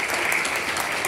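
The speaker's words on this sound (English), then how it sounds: "Clap again." Church congregation clapping at an Episcopal worship service, a brief, even burst of many hands close by with no break.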